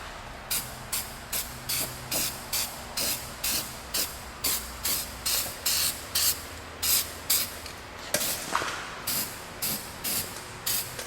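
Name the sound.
spray can spraying paint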